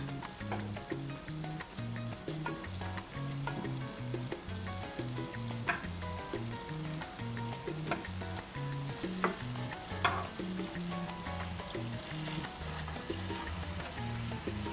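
Dutch meatballs frying in a pan, a continuous busy sizzle and bubbling crackle with no talk, steady and close throughout.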